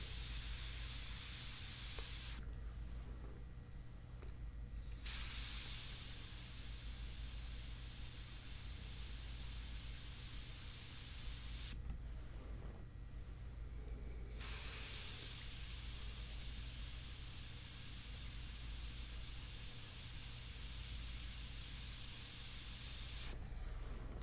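An airbrush sprays India ink onto paper in a steady, close hiss. The bursts last several seconds each and are broken by two brief pauses, with no voices.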